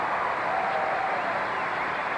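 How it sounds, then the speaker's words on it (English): Arena crowd at a men's gymnastics final applauding a triple back, a dense, steady roar of clapping and cheering lasting throughout. "And you hear the crowd."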